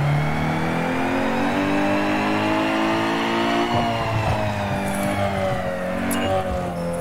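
Tuned Peugeot car in NFS Underground 2 revving steadily at high RPM on a dyno, a loud sustained engine drone with rising harmonics, no talk.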